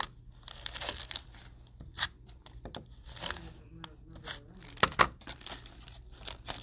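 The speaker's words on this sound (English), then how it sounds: "And then we're going to cut off the bottom." Scissors cut off the bottom of a bag with intermittent crunching snips and crinkling plastic, close and quiet, with occasional speech in between.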